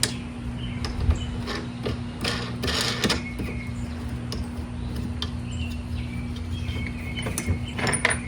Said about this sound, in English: This right here, we're gonna screw one of these on.